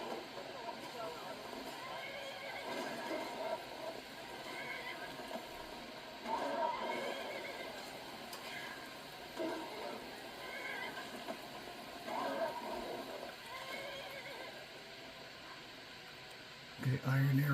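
A horse in the Skyrim video game neighing and whinnying repeatedly at low volume, with faint hoofbeats and quiet game ambience underneath.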